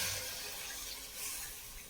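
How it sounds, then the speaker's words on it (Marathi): Water poured from a small pot into a crab curry simmering in a cooking pot, a steady close rushing pour lasting throughout with no talk. "आता आपण त्यात 1 तांब्यावर पाणी घालून घेऊया."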